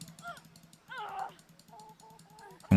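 Chickens in the medieval video game Kingdom Come: Deliverance give short, throaty clucks and squawks in several bursts over a faint ticking background, with a sharp thump at the very end.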